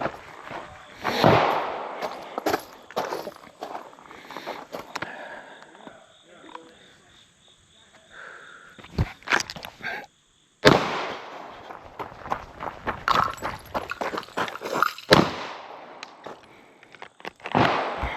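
Sharp gunshots ring out at an outdoor shooting range, several loud cracks spread across the span with quieter gaps and a near-silent pause between volleys.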